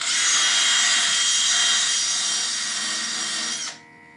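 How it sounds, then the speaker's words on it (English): A power drill with a sanding wheel grinds steadily against rusty metal on a tiller for several seconds, loud and close, then cuts off abruptly near the end. "So I got my drill here, like I said, with the wheel in it"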